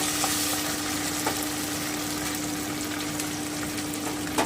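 Ground onion paste fries in a pan for fish egg dhokar dalna, a close, constant sizzle with occasional stirring scrapes over a faint steady hum.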